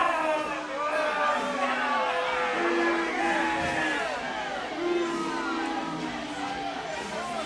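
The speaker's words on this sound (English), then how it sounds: "The crowd here at the Snooker Zone are letting him know what they really think of him." Snooker hall crowd jeering a player, many overlapping voices booing, whooping and shouting at once in a dense continuous roar of chatter and catcalls.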